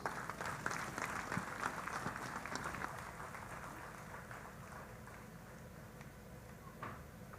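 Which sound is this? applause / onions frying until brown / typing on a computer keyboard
applause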